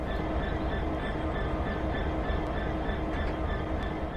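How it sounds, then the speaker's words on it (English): A train in Train Sim World rumbles steadily with a dense, even roar and a faint high whine, close and continuous without speech. "I'm just gonna start the damn train."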